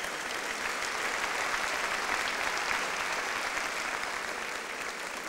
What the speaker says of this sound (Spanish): Os pido un aplauso para todos ellos, para todos nuestros candidatos y alcaldes.